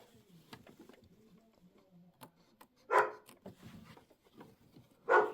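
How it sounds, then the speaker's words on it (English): Dogs barking indoors in a sewing room: two sharp, loud bursts a couple of seconds apart, standing out over the faint ticking hum of an embroidery machine. "I'm gonna ignore those rude dogs."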